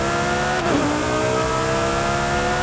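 A Lamborghini Huracán EVO's 5.2-litre V10 roars steadily, with a brief pitch dip and rise midway as it revs, loud and close throughout.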